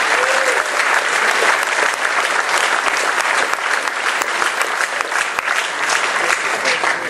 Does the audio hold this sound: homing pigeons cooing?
no